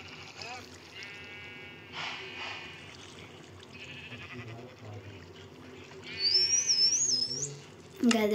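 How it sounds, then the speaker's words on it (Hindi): High, squeaky dolphin chirps and whistles from a dolphin in Minecraft ring out in short bursts over low background noise, with a person speaking briefly. "देखो कितनी प्यारी आवाज है गाइस डॉल्फिन की।"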